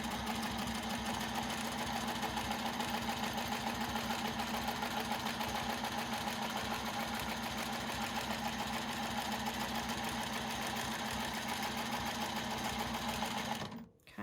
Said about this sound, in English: I'm going to stitch on this next line that I have, crosshatch line that I have